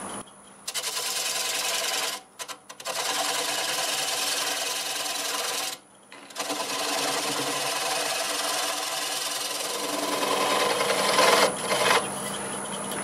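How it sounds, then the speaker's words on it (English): A half-inch bowl gouge cutting a tenon on apple wood spinning on a lathe, a loud continuous scraping rasp broken by two brief pauses and running on steadily to the end. "I'm going to use a half inch bowl gouge. We're just going to take that down just a little bit."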